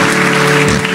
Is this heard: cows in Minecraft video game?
no